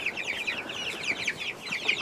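Hens at a mountain homestead in the Apuseni cluck softly and repeatedly. The short, overlapping calls come from close by, with no talking.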